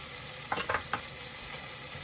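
Seasoned food stirred in a sizzling pan, with granulated onion and black pepper, for chicken broccoli Alfredo: three quick scraping strokes over a steady low frying hiss, close and fairly quiet.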